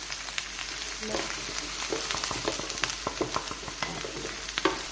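Onions frying in a hot pan with plenty of oil, a steady sizzle with scattered crackles and pops, close and moderately loud with no talking.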